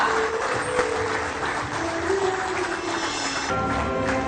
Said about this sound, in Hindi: आप सबकी तरफ से हम सभी के लिए तालियां हो